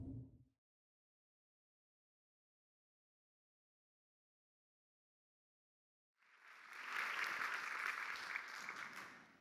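Audience applause breaks out to welcome Josh Townsley to the stage at a talk, a full, steady clapping that swells in after a long silence and carries on loudly to the end.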